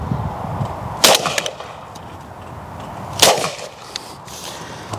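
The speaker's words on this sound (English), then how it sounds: "Very impressed with that as a semi-auto." A semi-automatic shotgun fires during outdoor clay shooting, two loud, sharp reports about two seconds apart, each with a short fading tail.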